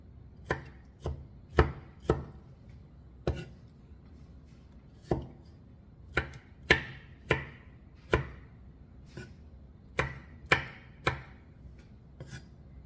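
Cherry tomatoes being cut into small pieces with a knife on a board, sharp distinct chops in an irregular rhythm, close and clear with no talking.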